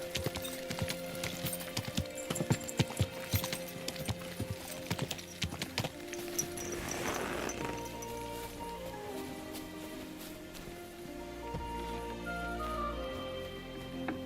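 Horse hooves clip-clop at a walking pace in the medieval game Kingdom Come: Deliverance II, a fairly faint, irregular run of knocks over a soft ambient backdrop with no voices.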